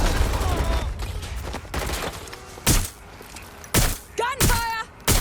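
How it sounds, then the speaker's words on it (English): Bursts of gunfire crack out in short volleys, loud and close, with game sound effects and voices mixed in between the shots, in the video game Watch Dogs: Legion. "Gunfire!"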